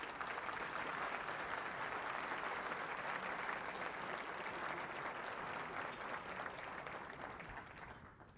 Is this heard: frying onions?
no